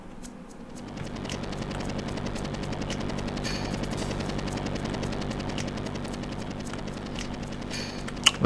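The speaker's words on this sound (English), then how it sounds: "Looks exactly like the helicopter from Crisis Core" Helicopter from Final Fantasy VII gameplay, a steady rotor drone with rapid chopping pulses, holding loud and continuous throughout.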